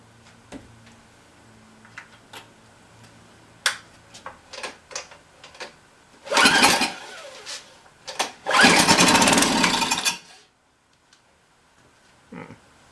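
Tecumseh engine on a pressure washer being pull-cranked without starting: scattered clicks and knocks, then two rough bursts of rapid whirring cranking, each a second or two long, close and fairly loud, followed by quiet handling sounds.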